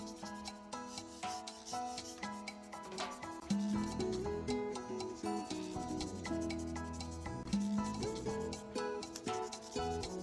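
A scribed panel line on a plastic 1968 Corvair car model kit being smoothed, giving a continuous close rubbing and rasping scrape with repeated strokes over faint background music.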